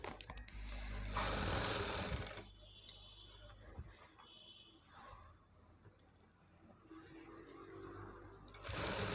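A sewing machine stitches blouse fabric in bursts of rapid mechanical whirring, loudest at the start and end, with quieter clicks and handling noises between runs.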